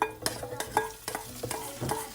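Octopus grilling in a pan with a sauce, stirred now and then, giving a close, moderate sizzle broken by short scraping and clattering strokes.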